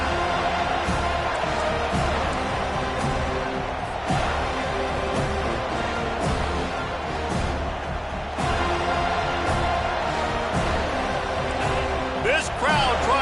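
Crowd noise from a Miami Hurricanes versus Florida State college football game fills the stadium in a dense, continuous roar that swells at moments, with a broadcaster's voice talking over it.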